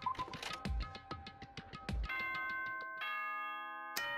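A school announcement chime in a Danganronpa-style video game plays as a bright ding-dong electronic bell, a few sustained tonal notes ringing over busy game music and effects, loud and close.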